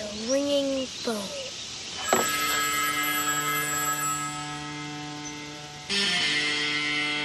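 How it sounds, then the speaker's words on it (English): An electronic ringing tone at a steady pitch with harmonics rises suddenly and holds for several seconds, then changes character near the end. It follows a brief voiced sound at the start and is loud and close. "We're gonna answer the ringing phone."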